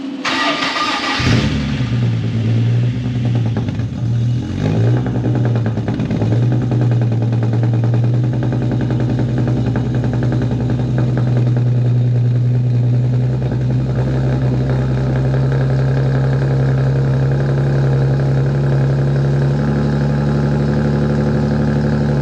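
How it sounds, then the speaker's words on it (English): An Infiniti G37 with a freshly swapped engine cranks briefly, catches with a loud burst and settles into a steady, smooth idle that drones on close up for the rest of the clip. "Engine start was a success."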